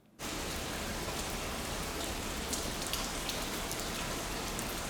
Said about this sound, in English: Literally, a downpour is coming down.